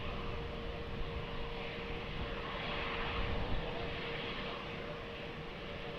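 Airliner on landing approach to runway 20 at Lisbon Airport: a steady, fairly distant jet roar with a faint sustained engine whine holding evenly throughout, no voices.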